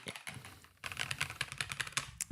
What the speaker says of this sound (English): literally just turn the dial, and it's a clicky keyboard